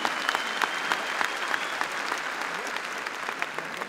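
A large audience at a motivational seminar claps steadily, a dense sustained roar of hands without talk.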